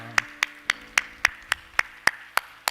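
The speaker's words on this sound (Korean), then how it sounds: "우리 하나님께 영광의 박수합시다" A church congregation claps in unison in praise, about ten sharp, evenly spaced claps in a steady beat, loud and close with a faint tonal hum underneath.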